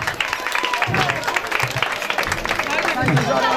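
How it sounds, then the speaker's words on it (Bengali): An audience claps for dancers at a Bengali holud celebration, steady scattered applause mixed with crowd noise and voices. "এদের জন্য একটু আপনাদের সবার কাছে একটি হাততালি চাচ্ছি"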